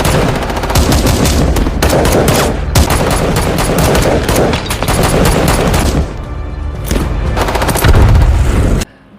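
A film gunfight, with dense bursts of rapid gunfire and heavy booming shots, loud and continuous for most of the stretch, with a brief lull near the middle before the firing resumes and then abruptly cuts off.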